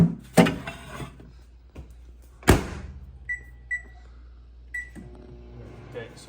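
A microwave oven heating cat food covered with a single napkin: two sharp thuds of the door and handling, a few short keypad beeps, then the low steady hum of the oven starting up, all fairly quiet.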